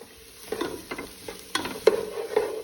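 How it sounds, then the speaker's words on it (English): Vegetables for lentils sauté in a pan, a soft sizzle under a few distinct stirring scrapes and clinks spaced through the moment, close and moderately quiet, with no voices. "You just want to saute it."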